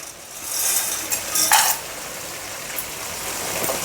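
Whole spices frying in hot oil in a pot for chicken biryani, giving a steady soft sizzle with a few brighter scraping stirs partway through, close and without talk.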